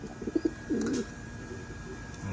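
Racing pigeons coo in a few soft, low bursts close by, with one fuller coo in the middle against a quiet background hum.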